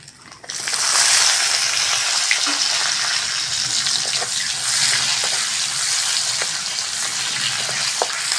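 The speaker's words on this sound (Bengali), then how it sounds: "পেঁয়াজটা ভালো করে ভেজে নেব" Chopped onions fry in oil with panch phoron five-spice, making a loud, steady sizzle that swells in within the first second and continues unbroken, with occasional faint stirring clicks.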